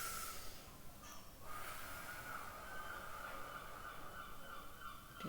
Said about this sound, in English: can I invite you to take some deep breaths here?